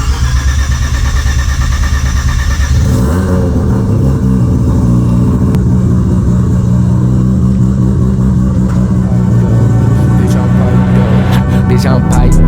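Mazda RX7 with aftermarket pipes out on a cruise, a loud, close engine drone that rises after a few seconds and holds steady, mixed with loud music playing.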